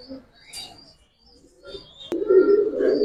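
Silver khaki pigeon cooing close by, a soft low rolling coo that swells near the end, with a few faint chirps and light handling noise around it.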